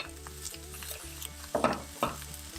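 Cabbage and cauliflower sautéing in a pan, with steady low background hum and a couple of louder stirring scrapes and sizzle bursts near the end; no one speaks.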